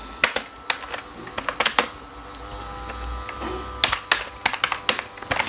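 Fingers type text on a computer keyboard in clustered bursts of crisp, close key clicks, with a brief pause in the middle before the rapid tapping resumes.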